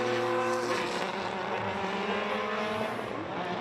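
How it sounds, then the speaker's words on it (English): Race cars on the circuit at a motorsport festival, their engines blending into a distant, fairly faint droning roar that rises and eases as cars pass by. "as you see, the cars continue to come around"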